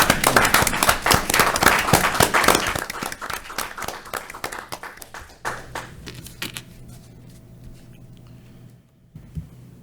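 Applause for firefighters at a city council meeting, a brisk round of many hands clapping close by that thins out and dies away over several seconds, leaving a quiet room with faint scattered taps.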